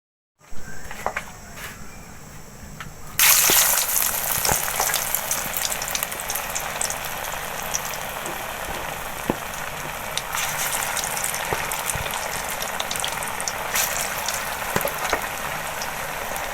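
Onion pakora fries in hot oil with a continuous close crackling sizzle that swells louder partway through as more batter hits the oil, steady and without talk.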